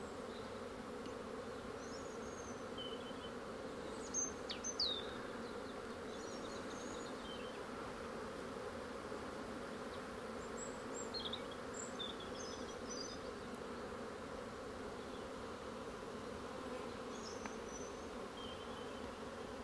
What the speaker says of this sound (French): je pense que vous devez voir les abeilles qui vont butiner